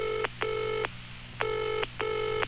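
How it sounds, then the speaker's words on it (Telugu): A telephone ringback tone from an outgoing call in a Telugu TV comedy sketch repeats as four steady electronic bursts separated by short gaps. It sounds clear and prominent over a low background hum. "కమలాసన్ గారు ఫోన్ చేద్దాం."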